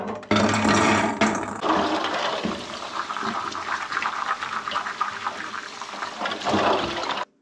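Acorns being washed in water at home make a steady, loud rush of running water with splashing and sloshing, continuous for several seconds before stopping abruptly.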